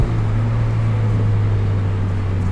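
Wind noise roars in the cabin of a 2021 Mazda MX-5 Miata Club convertible with a manual gearbox, heard as a constant loud rushing over a steady low engine drone.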